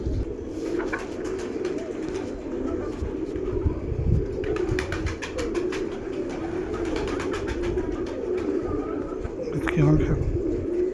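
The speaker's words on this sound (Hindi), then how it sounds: "बड़ा ब्रीडर कबूतर है।" Breeder pigeons coo in low, repeated throaty phrases close by, with faint chirps and scattered clicking in the background.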